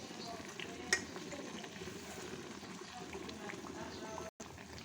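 Poa pitha, a sweet fried cake made with date-palm jaggery, sizzles softly in hot oil in a home kitchen, with a steady low crackle throughout and one brief clink near the start.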